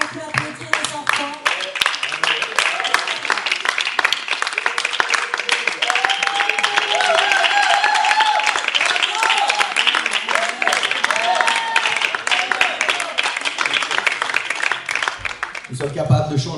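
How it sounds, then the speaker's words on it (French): A church congregation applauds children at a 2019 Christmas service, sustained loud clapping that fills the space for most of the stretch, with voices mixed in and a brief drop near the end. "On peut applaudir les enfants."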